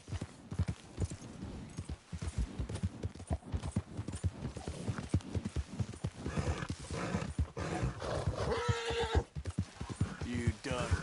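Horse hooves clip-clop at a steady trot in Red Dead Redemption 2, with a horse neighing and whinnying loudly near the end. A rider's voice talks over the galloping rhythm in the open.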